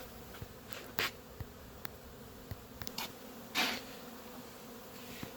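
Honey bees humming in an opened hive colony, a steady close buzz with a few bees zipping past the microphone, quiet, with no talk.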